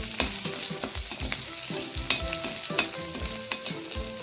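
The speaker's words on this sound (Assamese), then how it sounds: "এতিয়া পিঁয়াজখিনি ৰঙচুৱা হ'বলৈ লৈছে।" Onions fry until browned in a pan with green chillies added, a steady close sizzle with stirring scrapes under rhythmic background music, while an Assamese fish tenga is cooked.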